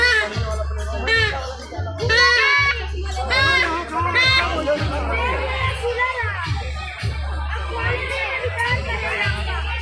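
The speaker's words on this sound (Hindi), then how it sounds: "बहुत सारे लोग भीड़" A busy crowd of people and many children at a village fair, with lively overlapping chatter, kids' voices and shouts all around, plus a steady low hum pulsing underneath.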